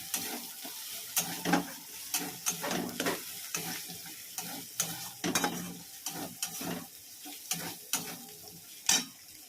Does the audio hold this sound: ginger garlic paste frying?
yes